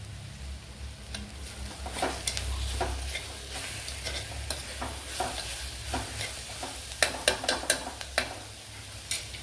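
A small tomato is added to a soybean curry sizzling in a pan, with a low frying hiss under a series of quick spoon scrapes and taps that grow busier toward the end.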